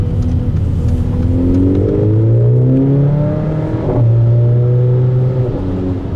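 Mercedes AMG GLA45 crossover engine revving hard under acceleration, loud and close, the pitch climbing then dropping sharply at each gear shift of the automatic transmission, twice over.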